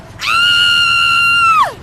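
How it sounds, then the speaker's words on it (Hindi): A sudden, piercing scream bursts out, holding one loud sustained shrill tone for over a second before sliding downward and cutting off. "तभी अचानक मुझे एक चीख सुनाई दी।"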